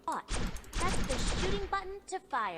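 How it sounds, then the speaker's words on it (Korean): Auto-fire gunfire in a mobile FPS MOBA game rattles out as a rapid burst for about a second, then short shots follow between bits of excited talking over it. "오토파이어를 키면은 다음에는 저절로 쏘는구만"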